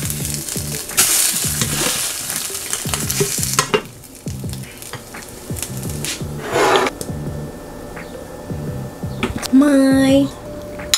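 Egg frying in a pan, a steady sizzle and crackle running through the whole stretch, with scraping and stirring noises and speech over it at times.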